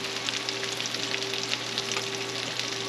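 Brussels sprouts fry in a pan with a steady, close, even sizzle over a constant low electrical hum, with no talking.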